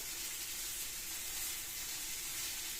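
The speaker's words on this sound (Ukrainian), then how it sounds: "Зараз перекладаю, підсмажу цибульку" Onion frying in a pan in a home kitchen, a constant dense sizzle and hiss that stays even and fairly quiet throughout, with no talking.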